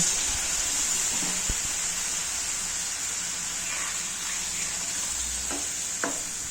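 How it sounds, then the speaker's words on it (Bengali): A little water poured into a pan of masala-fried broccoli, potato and carrot sets off a loud, even hiss and bubbling sizzle that holds throughout, with a few soft clinks of a stirring spoon and no voices. "এবার অল্প পরিমাণ জল দিয়ে দেব"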